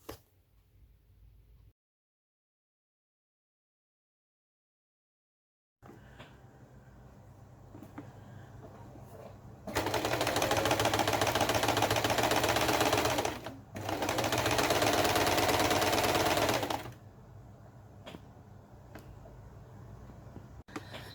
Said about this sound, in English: Today I'm sewing binding